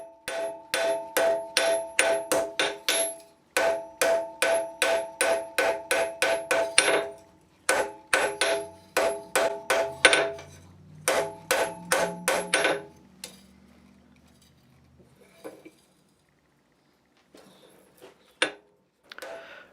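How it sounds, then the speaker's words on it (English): A hammer forges a lantern hook pad against the corner of an anvil, giving rapid bright metallic ringing blows in several bursts, loud and close, then a low scraping lull and a few sparse taps near the end. "I'm forging it with the front side facing down so it's being forged up against the corner of the anvil"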